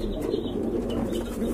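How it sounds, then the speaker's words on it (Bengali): A pair of very large pigeons at a pigeon seller's, giving soft, low cooing amid steady murmuring background noise, continuous for a moment with no voices. "খুবই বিগ সাইজের এক জোড়া কবুতর"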